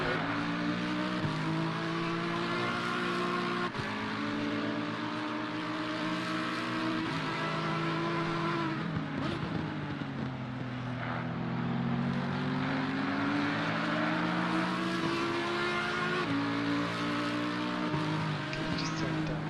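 An Audi GT4 race car in a racing video game at Imola gives a steady, buzzing engine drone that rises and falls slightly, continuous and fairly loud for the whole stretch.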